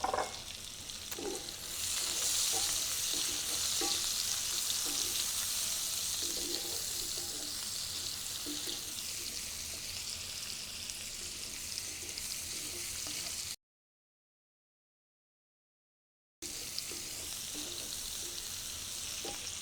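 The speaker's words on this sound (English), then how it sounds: "Now we're going to add our onion." Onion fries in butter in a pan, a loud, steady close sizzle with faint stirring clicks, interrupted briefly by a silent gap before the sizzle resumes.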